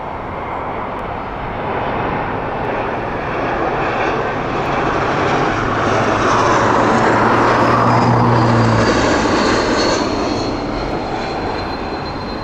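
An airliner arriving at Heathrow Airport on a sunny day, a loud, broad jet engine roar that swells as it passes close by and stays strong throughout, with no talk.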